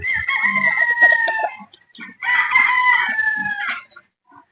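A Boston Roundhead gamefowl rooster crows loudly and close twice in a row, each long, strained cock-a-doodle-doo call separated by a short pause, with faint clucking in between.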